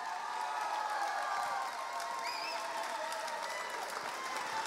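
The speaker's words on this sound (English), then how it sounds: "Give him a huge round of applause" Faint, distant crowd applause for the Cardinals president at a baseball Hot Stove event, a steady wash of clapping with scattered cheers and a brief whistle-like whoop in the middle.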